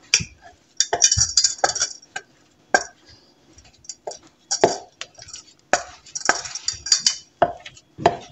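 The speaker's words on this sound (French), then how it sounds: "elle mélange chaque huile que tu rajoutes, tu mélanges comme ça?" A utensil stirs and clinks against a bowl while oils are blended for homemade toiletries, with irregular close taps and scrapes separated by short quiet gaps.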